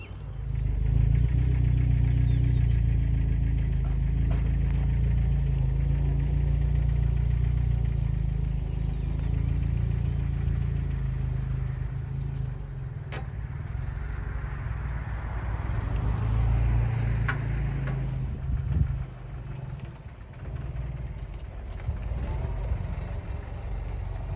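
Deep, steady engine rumble from a vehicle pulling a stuck project Jeep by its broken bent bumper, droning loudly and evenly throughout with slight surges and a brief knock near the end.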